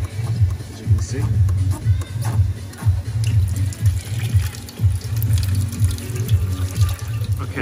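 Coolant from a disconnected radiator hose on a 2017 Peugeot Partner van with a leaking radiator pours out steadily in a loud, continuous splashing stream, with a voice speaking over it.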